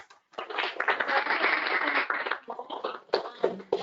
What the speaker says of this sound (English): I'd like to do a big round of applause.